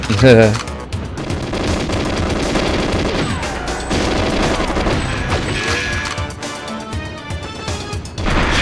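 Gunfire hits the player in the Nintendo 64 game GoldenEye 007 (1997) on a dark level. Sustained rapid automatic bursts and scattered shots rattle continuously over game sounds throughout.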